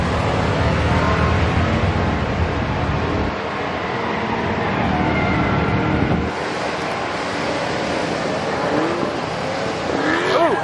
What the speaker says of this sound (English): I hear the autocross going on.